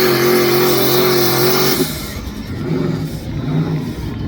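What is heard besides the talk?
pulling tractor engine revving during tractor pull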